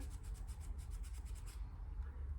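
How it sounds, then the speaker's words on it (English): Residue being rubbed off inside a Nikon F100 camera's battery compartment with alcohol, a close, quiet rapid scrubbing rasp in quick repeated strokes that then stops. "If I just rub that, you can hear me rubbing."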